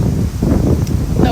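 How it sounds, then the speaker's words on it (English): Gusty wind buffets the microphone outdoors in Houston, a steady low rumble of blustery noise over about a second and a half with no clear voice. "it's getting windy out here"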